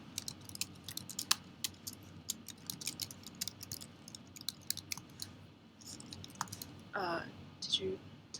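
Someone writes code on a computer keyboard during a technical interview, producing quiet, irregular key clicks in short bursts, with a little speech near the end.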